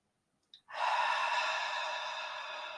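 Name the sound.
deep breathing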